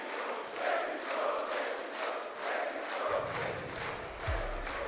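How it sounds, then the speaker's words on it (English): Esports arena crowd at the Rainbow Six Manchester Major grand final, Team BDS versus beastcoast, producing a steady broad roar of cheering that swells in waves throughout. "Crowd in Manchester certainly waking up along with BDS here."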